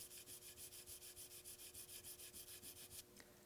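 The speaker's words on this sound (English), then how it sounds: "I take some 320 grit sandpaper, wrap it around a small block, and very carefully sand that" Rapid, even back-and-forth strokes of 320 grit sandpaper wrapped around a small block, dry-sanding a lacquer finish, about six per second, close and steady, then stopping.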